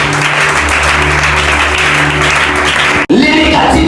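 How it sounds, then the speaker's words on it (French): A church congregation applauding for Jesus, loud dense clapping from a large crowd that fills the room, then cuts off abruptly near the end. "Est-ce que je peux acclamer pour Jésus?"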